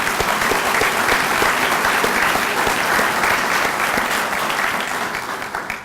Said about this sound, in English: Let's give Candace a round of applause.